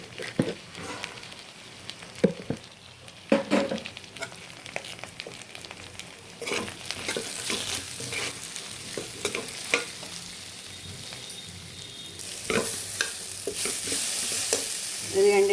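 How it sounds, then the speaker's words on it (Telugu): Pieces frying with turmeric and chili powder in a pan for thii kanda curry, stirred with repeated scraping clicks over a sizzle that grows louder and steadier toward the end. "ఇదిగండి ఇట్లా ముక్కలు వేగాయి కదండి."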